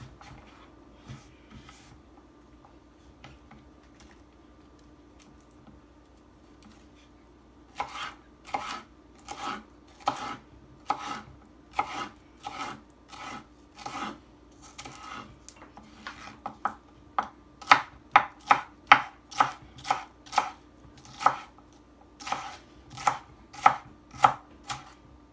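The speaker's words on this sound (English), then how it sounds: "I dice them up pretty small" A knife dicing vegetables small on a cutting board, starting with light scattered taps and building into a run of crisp, rapid chops that grow louder and more regular toward the end, without talk.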